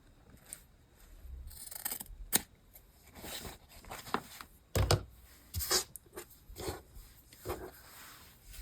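Scissors snip through tulle fabric in a series of short, crisp cuts, uneven in rhythm with brief pauses between, close and fairly quiet, with no talking.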